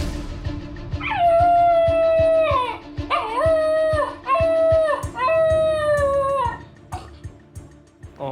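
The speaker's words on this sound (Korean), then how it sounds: "늑대처럼 막 하울링을 그냥 어릴 때부터 했었어요" A Shiba Inu howls like a wolf, giving four loud, close, drawn-out wavering howls with short breaks between them over a faint, patchy background.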